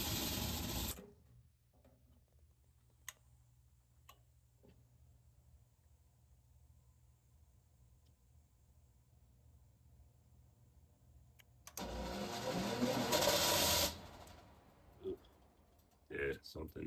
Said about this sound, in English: It sounds like the fan motor.